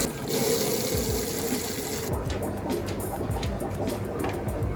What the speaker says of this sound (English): So we'll fill up our tubs. This is just normal tap water.